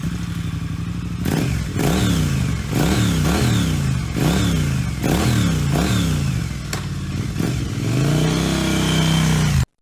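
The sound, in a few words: motorcycle engine starting after kicks, cartoon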